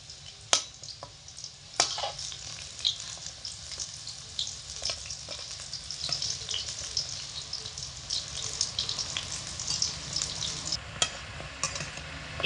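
Potato and flour snacks deep-fry in oil, a soft steady bubbling hiss with occasional sharp clicks and taps of a utensil, close but fairly quiet, no talk.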